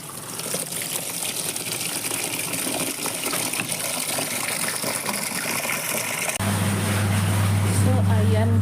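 Tap water pours steadily into a laundry basin, a continuous gushing wash that shifts to a deeper, fuller filling tone near the end as the level rises.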